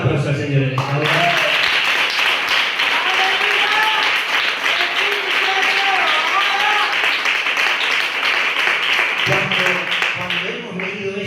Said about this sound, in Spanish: Dale un aplauso al Señor en esta hora.